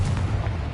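A Confringo blasting spell goes off in Hogwarts Legacy as a short, heavy, booming burst with a deep low rumble, loud and close, lasting under a second with no voices.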